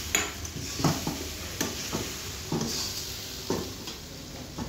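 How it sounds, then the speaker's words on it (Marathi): Kanda poha being cooked in a pan at a canteen, with onion and chili in the mix; a steady sizzle runs underneath as a utensil repeatedly scrapes and clanks against the pan in several distinct strikes. "दादा आज कांदा पोहे बनवत आहेत."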